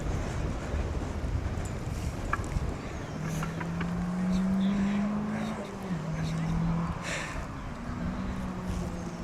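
An Opel Manta rally car on a special stage of the East Riding Stages Rally, its engine droning and rising in pitch at a moderate distance, heard beneath commentators talking over it.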